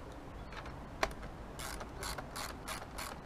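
Screws being tightened on a Mercury four-stroke outboard motor: close mechanical ratcheting clicks in quick bursts, one sharp tap, and faint rustling, with no one speaking.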